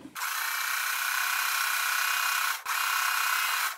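Sewing machine running steadily along the bottom edge of quilt fabric, a continuous high motor whir that stops briefly partway through and then resumes, close and alone with no talk.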